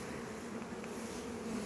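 Honey bees buzzing at the hive, a continuous low drone from many bees, steady and fairly faint, with no voices.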